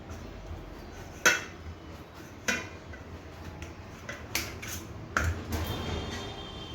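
A knife cutting through a muskmelon on a board, a few sharp clicking taps and scrapes spaced irregularly, close and fairly quiet.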